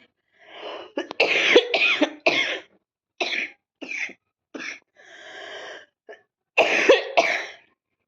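Someone coughs repeatedly in a series of harsh, close bursts with short pauses between them, ending in a final couple of strong coughs.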